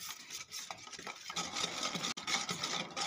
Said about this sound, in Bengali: সব উপকরণগুলো খুব ভালো করে মিশিয়ে নেব।